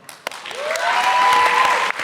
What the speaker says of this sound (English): One more big round of applause for first convention